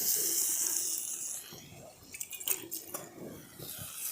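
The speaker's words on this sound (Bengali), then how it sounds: "বাটিটা ধুয়ে অল্প একটুখানি জল দিয়ে দিচ্ছি।" A spice bowl is rinsed and a little water poured into a cooking pan, giving soft splashing and squishy wet sounds with a few sharper clinks, fairly quiet, after a stretch of faint hiss.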